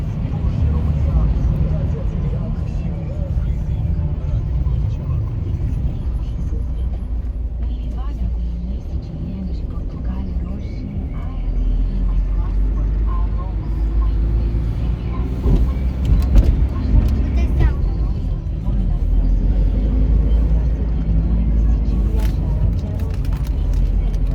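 Steady road rumble and engine drone inside a moving car heard from a passenger seat, continuous and loud throughout, with people talking over it.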